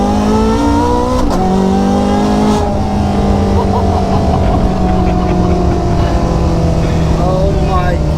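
Ferrari 430 Scuderia V8 engine accelerating hard on a track straight, loud and close with rising then shifting harmonic tones, wind and road roar filling the background throughout.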